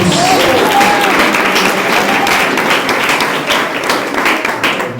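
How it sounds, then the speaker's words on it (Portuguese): A church congregation claps during a sermon, a loud, continuous wash of hand claps with occasional heavier thumps and taps, close by and gradually easing toward the end, with no speech over it. "Pode bater as palmas para Jesus."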